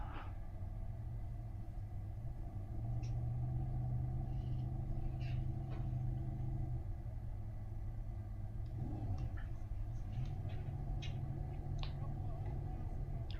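Race cars climb the hill at Road America during the WeatherTech International Challenge, a steady low engine rumble building and holding at moderate distance, with faint scattered clicks above it.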